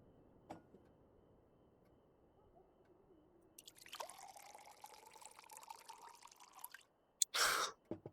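Water or tea poured in a steady stream for about three seconds, a bright splashy trickle alone in a quiet room, followed by a brief louder clatter.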